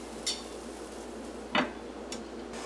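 A pot of sweet vermicelli with sugar is stirred and covered, giving a few light, separate metallic clinks against a quiet background.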